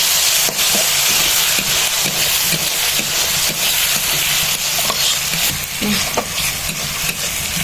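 Dried baim eel fish with garlic leaves sizzles steadily in a frying pan while a utensil stirs it in repeated scraping strokes, close and fairly loud throughout.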